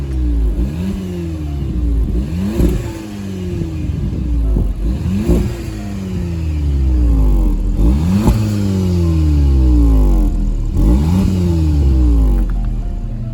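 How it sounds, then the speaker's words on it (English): A VW Polo GTI engine is revved repeatedly while stationary, loud and close, each blip rising and falling in rapid succession over about thirteen seconds, with no talk. "I asked the salesman if he could rev the car for me"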